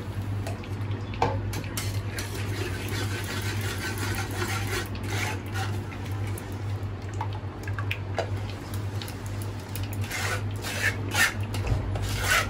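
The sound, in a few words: straining a cooking mixture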